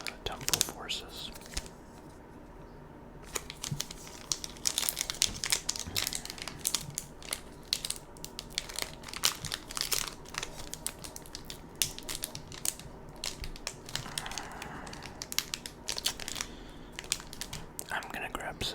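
Crinkly plastic foil of a Pokémon Temporal Forces booster pack is handled and torn open up close, giving dense crackling and rustling throughout with a soft voice murmuring faintly underneath.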